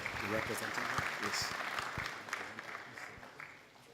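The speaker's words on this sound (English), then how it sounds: "Please, a warm round of applause for him." Audience applausing at a Nigerian Patients' Bill of Rights launch for Vice President Yemi Osinbajo, a steady wash of clapping that fades toward the end, with a voice speaking over it near the start.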